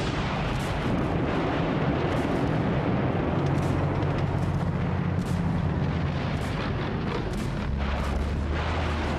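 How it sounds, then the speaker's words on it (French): Intense Soviet artillery barrage on a wartime front with massed guns, heard as a continuous dense roar of overlapping distant booms and rumbles with no clear gaps between shots. "Ce tir de barrage intense est suivi par un déferlement de fantassins et de chars d'assaut."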